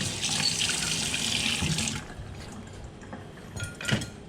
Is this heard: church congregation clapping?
no